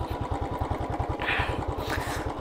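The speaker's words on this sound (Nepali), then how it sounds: "ल इन्जिन ब्रेक अप्लाई गरिदिउँ" A motorcycle engine throbs in a steady, fast pulsing rhythm while engine braking on a mountain road, loud and close throughout with no voices.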